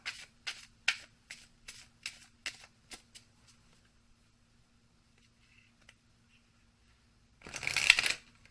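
A tarot deck called Power of Surrender is shuffled in a quick series of crisp riffling bursts, then quiet, ending with one longer, louder flurry of cards close by.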